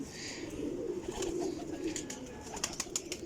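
Pigeons coo close by in a flock of large, well-kept birds, with a low continuous cooing and a few sharper calls and flutters near the end.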